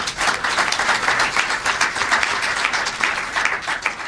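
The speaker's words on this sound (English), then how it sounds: "A very warm round of applause for our panel." A large audience at an international water policy panel gives warm applause, with a full, continuous clapping that rises and falls gently in intensity without any break.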